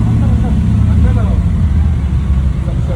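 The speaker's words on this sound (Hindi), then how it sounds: "हायाबुसा देख रहे हो, स्टॉक साउंड है इसमें" A stock Suzuki Hayabusa motorcycle engine idles with a steady low rumble at a roadside bike meet, with people talking over it.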